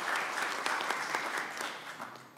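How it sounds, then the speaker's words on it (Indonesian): An audience at the declaration event for Ganjar Pranowo and Mahfud MD as 2024 presidential and vice-presidential candidates claps in sustained applause, a dense crackle of many hands with no speech. "Kita berikan tepuk tangan yang meriah"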